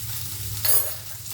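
Leafy greens seasoned with salt and turmeric stirred and frying in a pan, a quiet continuous sizzle with a scraping stir swell near the middle and another at the end.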